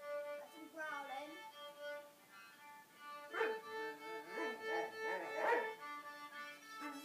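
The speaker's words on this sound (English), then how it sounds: "That's him growling." A dog named Freddie makes tonal whining, grumbling vocal sounds during play, in short uneven bursts that swell louder in the second half, with no talk over them.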